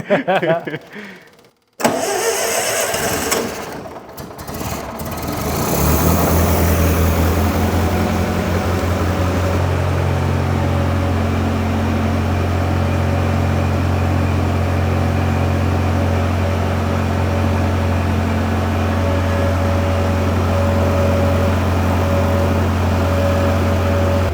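An old ALMACO plot combine's engine cranks over with a few rough, uneven bursts, then catches and settles into a loud, steady mechanical drone with a deep, constant hum that runs to the end.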